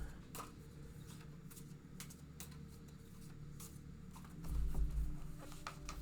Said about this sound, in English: Let me shuffle them up.